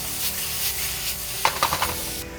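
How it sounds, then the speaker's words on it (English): Mushrooms sizzle in a pan as garlic is added, followed by a few quick stirring scrapes and clinks of a utensil against the pan, near and moderately loud. "We want to add our garlic now, just to bring out some of the flavor from the garlic."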